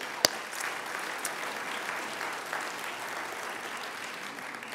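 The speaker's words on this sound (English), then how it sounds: "So how about a round of applause for all those sponsors" Audience applause for event sponsors at the San Francisco Asian Pacific American Heritage Awards, a steady, fairly quiet wash of clapping from a room of people with one sharp clap near the start.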